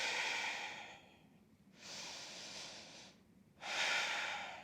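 Slow, deep breathing during a yoga flow, long airy exhales and inhales close to the microphone, separated by short pauses, with no talk.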